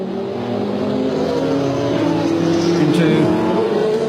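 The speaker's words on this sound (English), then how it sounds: "The whole gaggle of cars there going over the crest of the hill and then diving down" Peugeot 905 and Toyota TS010 prototype race cars at Le Mans, a pack cresting a hill and diving toward Mulsanne corner: a steady, loud engine roar building slightly as the cars pass, with a commentator talking over it.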